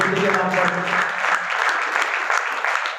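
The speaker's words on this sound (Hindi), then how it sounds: "बहुत जोरदार तालियां हमारे छात्रा की बेटी के नाम पर।" An audience applauds a student's daughter at a community gathering, dense clapping throughout with a voice speaking over it, moderately loud and close.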